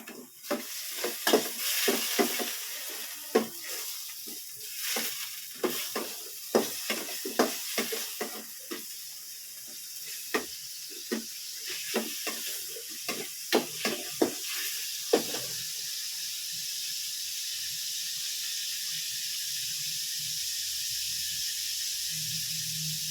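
A fish steak fries in a pan on the stove, its steady sizzle running throughout, with repeated clatters of stirring and utensil scrapes during the first half before the hiss settles into an even, uninterrupted fry.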